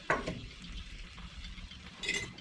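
Spoon stirring food in a pot of warm, steaming water on a wood cook stove, scraping and clinking against the metal at the start and again near the end, with a soft bubbling wash in between.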